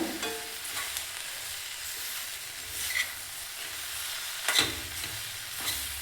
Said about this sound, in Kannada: ಈ ಬೆಂಡೆಕಾಯಿನ ಸೇರಿಸಿ ಚೆನ್ನಾಗಿ ಒಂದ್ಸತಿ ಮಿಕ್ಸ್ ಮಾಡೋಣ